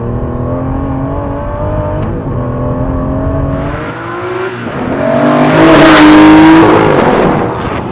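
A 2016 Aston Martin V12 Vantage S with its 6-litre V12 revs hard and loud, the engine note holding steady and then climbing into a higher, louder howl. No talking.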